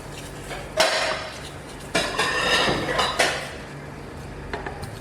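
Metal utensil scraping cooked food off the inner pot of a Simplus electric multi-cooker, a few loud rasping scrapes in quick bursts with short pauses, close up and without talk.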